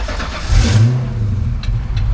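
A 1990 Ford Mustang engine cranks and catches, then settles into a loud, close idle with a brief rev.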